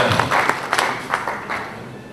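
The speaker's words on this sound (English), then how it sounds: "So give another round of applause to India." An audience at a keynote conference speech gives a short round of applause: several sharper claps stand out early, then the clapping thins and fades over about two seconds.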